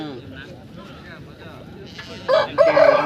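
A Dega breed fighting rooster crows loudly and close by at the Punganur hen market, its call rising in the last second after a stretch of people talking over a busy market background.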